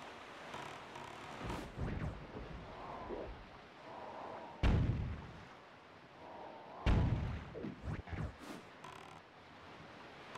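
Bombs exploding at the ghost ship in Zelda: Wind Waker over sea ambience, a few muffled thuds, two sharper booms in the middle, followed by faint splashes.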